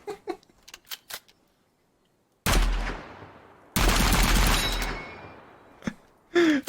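Rapid semi-automatic fire from an M1 Garand rifle in Gunsmith Simulator, two dense bursts of loud close shots with ringing tails, framed by quieter clicks and mechanical handling noises before and after.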